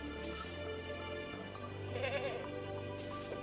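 Goat bleat from a goat accessory in the Terraria video game, a synthetic wavering bleat over steady game music, rising midway and followed by a short sharp knock at the end.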